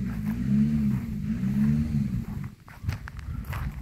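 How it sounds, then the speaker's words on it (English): A noisy truck drives nearby outdoors on a breezy day, a loud steady low engine rumble for about two and a half seconds that then drops away, leaving fainter uneven low noise. "Somebody's got a noisy truck over here."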